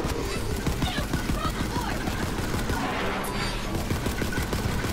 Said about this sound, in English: Alright, so I'm shooting Balex.